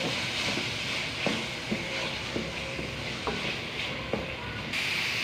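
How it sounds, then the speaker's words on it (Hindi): Minced meat frying in a pan with whisked yogurt for aloo keema, a steady close sizzle broken by a few sharp stirring clicks and scrapes, no voices. "तो यहाँ कीमा दही के साथ अच्छे से भून लिया है।"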